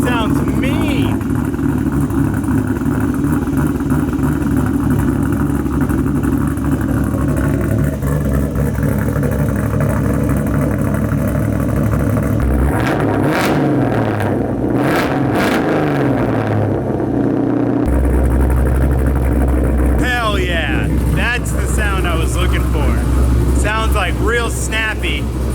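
Loud, close engine noise from an LS-swapped Mazda Miata fitted with a new exhaust, holding a steady idle before sharp throttle revs rise and fall, with a deeper rumble toward the end.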